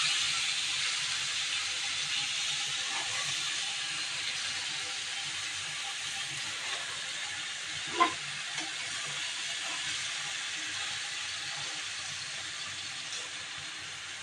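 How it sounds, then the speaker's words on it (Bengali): Fish frying in a pan gives a steady, even sizzle and hiss that holds throughout, with one soft knock partway through. "মাছগুলো ভেজে নিচ্ছি"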